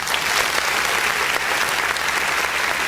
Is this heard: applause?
yes